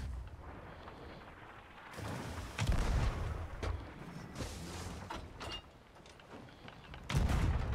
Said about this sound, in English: You can usually fire the cannon back at them.